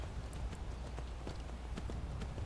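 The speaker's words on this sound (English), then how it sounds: "I have my own horse." Horse hooves clip-clop at a steady, quick pace in Skyrim, a series of sharp, close knocks over a low rumble, with no voices.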